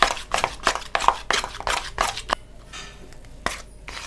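Homemade henna (mehndi) paste is stirred in a bowl, a run of quick scraping, clinking strokes of a spoon against the bowl that slow to a few sparse taps.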